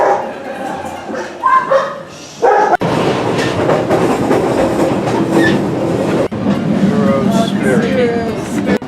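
A train in Portugal rumbles and clatters steadily nearby, with rhythmic rail noise throughout, while people waiting talk and a dog barks intermittently in the background.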